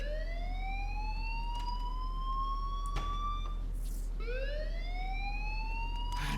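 A fire alarm rings in the video game Life Is Strange, a loud, continuous rising electronic wail that repeats in long sweeps over a steady background hum, with no talk over it.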